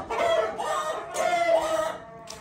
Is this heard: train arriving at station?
no